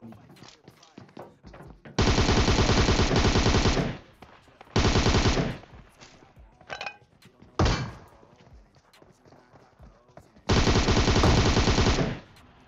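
Automatic weapons fire in PUBG Mobile, with loud sustained bursts of rapid gunfire separated by short gaps and a few single thuds and impacts between them.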